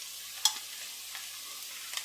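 Lentil curry with ginger stirred in a pot, a quiet bubbling hiss with a sharp clink of the spoon near the start and a couple of faint scrapes after it.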